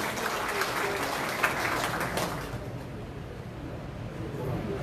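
Applause at an appointment ceremony for a Korean political party's provincial chairman inauguration, a full burst of clapping from a hall audience that fades out after about two and a half seconds into quieter room tone.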